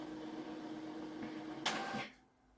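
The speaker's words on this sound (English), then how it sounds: "My printer is printing off things for me." A home printer runs with a steady mechanical whir, rising to a louder burst of paper feeding before cutting off into near silence.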